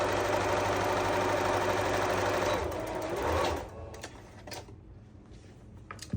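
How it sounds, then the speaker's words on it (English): Sewing machine running a straight quarter-inch seam on a pecan pie quilt block, a steady loud whirring hum for about three and a half seconds before it stops, followed by faint handling sounds. "straight stitch, 1/4 inch seam, back stitching when you start and when you stop"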